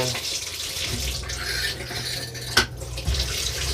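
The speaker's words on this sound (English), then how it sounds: "In fact, the water's still running." Water runs steadily from a faucet in a motorhome, a continuous splashing flow with a brief clatter partway through.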